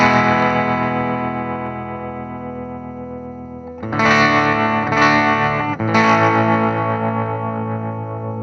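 Electric guitar driven through an EHX Ripped Speaker fuzz pedal into a Deluxe Reverb amp with its vibrato on: a long, gritty, wavering held chord, then three loud fuzzy strums about a second apart, each ringing out.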